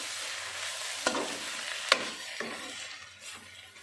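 Kolai greens frying in a pan give a soft, continuous sizzle, with a few sharp scrapes and taps as they are stirred, close but fairly quiet.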